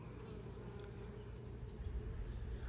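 Honey bees hum in a low, steady drone during a beehive inspection on a farm, faint but continuous, with no voices over it.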